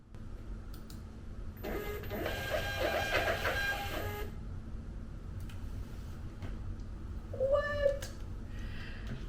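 A printer runs a short burst of mechanical whirring and clicking for a couple of seconds, fairly faint against room noise, followed by scattered small clicks and a brief squeal.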